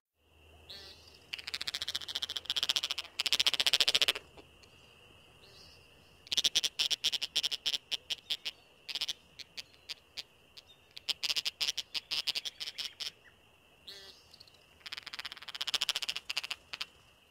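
A male American woodcock gives its odd aggression call toward rivals on a display ground, a series of rapid buzzy, rattling bursts over a thin steady high tone, fairly faint and outdoors without voices.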